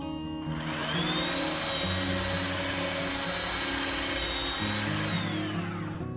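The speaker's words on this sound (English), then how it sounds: "It's fitting I'm using a drill from probably the 1950s." A 1950s power drill whines steadily at high pitch while boring holes in metal, the motor tone holding level for several seconds with grinding undertones.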